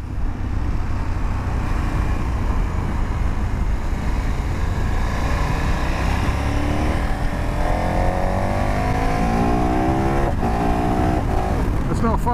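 A KTM 1290 Adventure S motorcycle engine hums under wind rush while riding on a road, with rising and falling revs toward the end.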